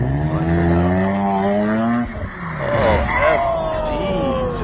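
A Mazda RX-7 FD drifts with its engine revving loudly, the rising and falling engine tone sliding through pitch changes alongside tire noise, close and continuous.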